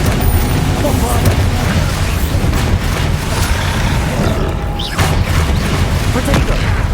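Explosive spells such as Confringo and Bombarda cast in a Hogwarts Legacy battle, loud booming blasts and crackling impacts in a dense, chaotic combat din with rumbling low end throughout.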